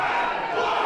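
Wrestling arena crowd roaring and chanting in a steady, dense wall of voices through a brief moment of a pro wrestling match.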